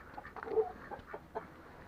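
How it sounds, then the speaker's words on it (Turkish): An English fighting rooster clucks in short, irregular bursts at moderate distance, with faint farmyard background and no talking. "Burada özel İngiliz horozu var Süleyman hocamın."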